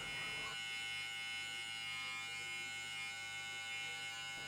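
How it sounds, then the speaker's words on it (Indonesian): Electric hair clippers buzz steadily and close up while cutting hair on the side of a head, a constant humming drone with a slight change in tone as they move. "Kita cukur dari atas ke bawah"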